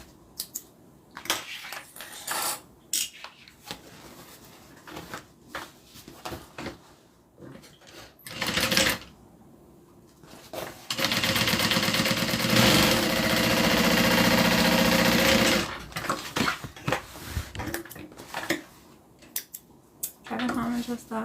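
A sewing machine top-stitches a bag in a sustained, loud, close run of several seconds, with brief bursts of stitching and cutting before and after and scattered speech nearby.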